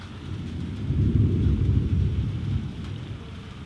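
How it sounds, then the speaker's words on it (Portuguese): Thunder from a nearby lightning strike during a storm, a deep sustained rumble that swells after the first second and slowly fades, loud and low with rain-like wash, no talking. "Mano, caiu um relâmpago ali."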